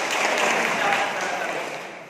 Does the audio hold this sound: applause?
yes